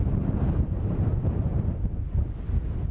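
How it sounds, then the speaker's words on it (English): Strong gusty wind along Interstate 25 in eastern Wyoming, a dense low roar buffeting the microphone with steady rushing and no voices. "there is depressing scenery and wind. Lots and lots of wind."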